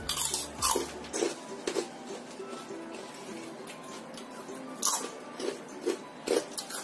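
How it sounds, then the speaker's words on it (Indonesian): Someone bites into crunchy homemade Indonesian krupuk crackers, producing several sharp, close crunches spaced irregularly over a quiet background, with no talking. "Ini saya akan makan. Gurih, renyah, dan enak."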